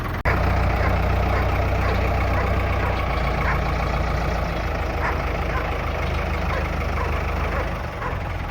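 A backhoe's diesel engine idles steadily and loudly close by, a continuous rumbling drone that holds unchanged while moving a truck frame for a 7.3 Powerstroke build.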